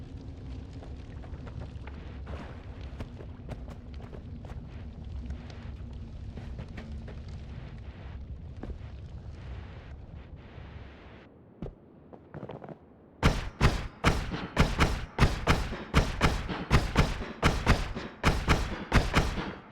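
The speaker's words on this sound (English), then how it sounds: "Stuff's still exploding, guys. Still exploding." Explosions in the game Noita, first a rumbling crackling blaze, then a brief lull, then a rapid string of sharp loud blasts and pops bursting close together.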